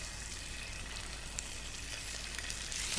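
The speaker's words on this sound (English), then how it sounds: "So now we're going to put the pork chops on." Pork chops sizzling in shimmering oil in a cast iron pan, a steady loud hiss and crackle throughout with small pops, close up and without talk.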